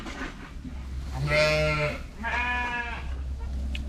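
Ewe with newborn lambs on a farm giving two close, distinct bleats in a row, a short one then a longer wavering one, over quiet background.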